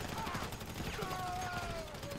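Gunfire bursts in GTA 5 on PC during a heist, rattling steadily through a busy mix of game noise with a faint rising whine, fairly loud and close throughout.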